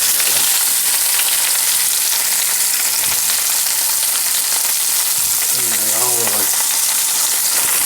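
Salmon pan frying in hot oil gives a loud, continuous close-up sizzle with steady crackling, while a voice briefly speaks over it near the end.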